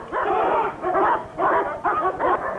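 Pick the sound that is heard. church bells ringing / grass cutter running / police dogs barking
police dogs barking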